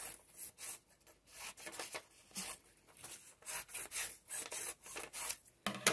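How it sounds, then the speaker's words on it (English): A small craft design for a coaster is cut around by hand, giving faint, quiet rasping strokes that repeat in short uneven bursts, with no talking. "I'm going to kind of cut around this."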